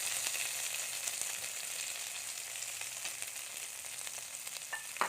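Northern Thai curry paste with pounded chili being stir-fried in a pan, a soft, steady sizzle with light stirring scrapes, fairly quiet and continuous, ending in a couple of sharper clinks with no speech.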